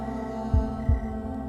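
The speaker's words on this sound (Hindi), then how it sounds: "हर किसी का दिल इसी तरह धड़कता है।" A film heartbeat sound effect: two deep, thudding beats a fraction of a second apart over a steady low hum, close and heavy, with no speech.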